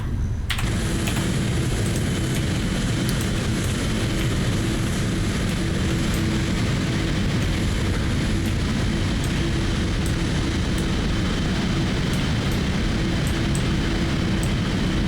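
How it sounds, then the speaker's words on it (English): Engines of a PMDG 777-300ER airliner running in a flight simulator, a steady broad jet roar and hum that holds evenly throughout, with faint clicking interface sounds on top. "There is the aircraft all started up, ready to go."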